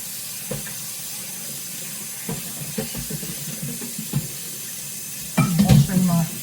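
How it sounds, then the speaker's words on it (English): A skillet is washed under a running kitchen tap: a steady stream of water with scattered clanks and scrapes, then a louder burst of splashing and rubbing near the end. "Washing my skillet, making sure there's nothing on it."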